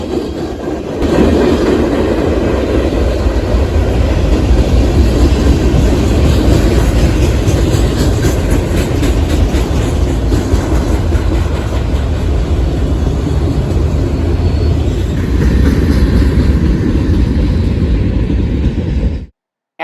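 Norfolk Southern freight train 170, carrying a cut of intermodal cars and new UTLX tank cars, passes as a loud, continuous rumble with steady rhythmic clatter for nearly twenty seconds before cutting off abruptly.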